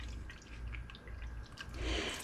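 Pineapple juice pours into a teriyaki deer jerky marinade, a faint, steady liquid trickle with soft splashes over low background hum.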